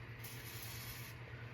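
Mineral oil sprays from a can into the potentiometers of a Panasonic 1267 stereo from a 1995 Miata, one steady hiss lasting about a second against a faint background hum.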